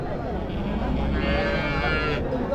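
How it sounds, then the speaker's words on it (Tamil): Dairy cows at a busy Friday cattle market in Uthangarai, a low drawn-out moo rising over steady crowd murmur and voices. "ஸோ இந்த சைடு ஃபுல்லாகவே பார்த்தீங்கன்னா கறவை மாடுகள் நிறைய இருக்கும்"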